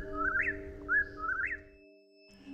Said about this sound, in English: The moan of the whippoorwill from the hillside